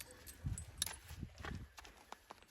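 Latvian draft mares walk with irregular dull hoof thuds close by, mixed with light shuffling and faint outdoor background noise.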